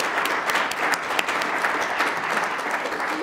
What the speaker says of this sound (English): thank our panelists for their formal presentation, and we could do that by applause